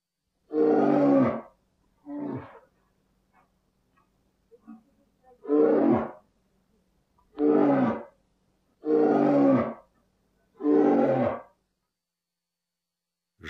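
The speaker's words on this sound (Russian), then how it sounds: "Медведь." A bear roars six times, deep and guttural, each roar a second or so long and separated by pauses of quiet, loud and close.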